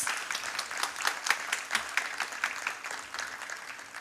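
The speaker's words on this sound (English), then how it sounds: "Guru Shama Bhate, with a loud round of applause." Audience applause at a dance recital welcoming a chief guest: a dense, steady round of clapping from a seated crowd, moderately loud and continuous for about four seconds with no talk over it.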